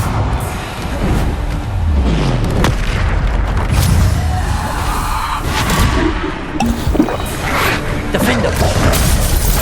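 Bombarda spell blasts in the video game Hogwarts Legacy, several booming explosions and bursts mixed with game effects and clatter, dense and loud throughout.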